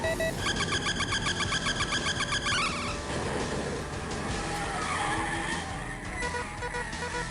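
Tires skid and squeal in a driving video game as the car slides, with a steady engine drone and music-like tones throughout, loud and continuous, no voices.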